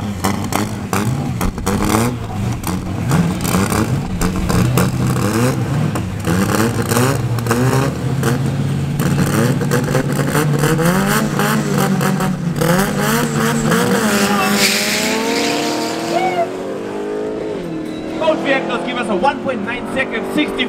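Drag racing cars roar and rev at full throttle down the strip at Midvaal Raceway, loud engine noise sweeping in pitch as they accelerate and fade, with a commentator's voice over the top.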